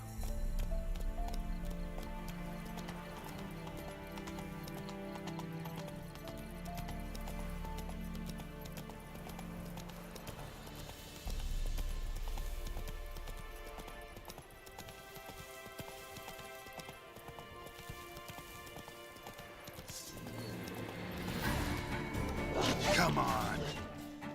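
Roach the horse galloping in The Witcher 3, with a steady clip-clop of hooves under game music and ambience and a rising swell of effects near the end.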